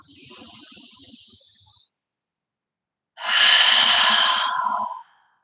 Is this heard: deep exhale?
yes